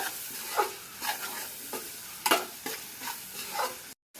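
A spoon scrapes and stirs tomato masala in a pan for Kerala chicken curry, making about nine distinct close strokes over a soft frying sizzle, with no talking.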